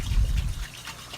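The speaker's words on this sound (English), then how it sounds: "just pour what excess spaghetti sauce I was able to get out" Watery spaghetti sauce, thinned with a little water and shaken in the jar, pours out in a short close trickle that starts strongest and tapers off within about a second.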